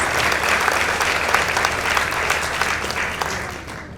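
Audience applause at a school debate results announcement between Our Lady of Mercy and Nembu Girls High School, dense steady clapping from a crowd, fairly loud and continuous, fading slightly at the end.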